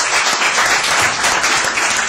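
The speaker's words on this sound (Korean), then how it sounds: "박수 한번 주시죠" Audience applause fills a lecture hall after a talk, a dense, steady wash of clapping from many hands lasting about two seconds with no voices above it.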